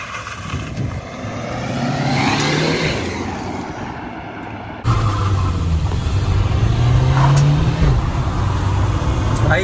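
A Maruti Ciaz and a Honda City in a drag race, their engines loud and close as they rev and accelerate, each roar climbing in pitch before a sharp cut to a second hard, rising run.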